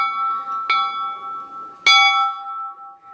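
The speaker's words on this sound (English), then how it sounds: "I rang the bell." A metal bell at a corn maze station on a farm is struck twice, each a bright clang that rings on with a sustained, shimmering tone, close and loud, with no talk.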